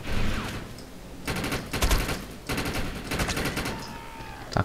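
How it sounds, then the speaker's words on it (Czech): Video game gunfire in the online shooter Defiance, with rapid bursts of automatic fire aimed at the player in repeated volleys, loud and close with brief pauses between them. "Všichni po mně střílí."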